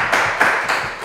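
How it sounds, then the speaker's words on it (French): At a general-knowledge quiz game in Lubumbashi, a few loud, distinct claps ring out in a slow, spaced rhythm, close by, against a faint steady background. "Merci de l'applaudir également."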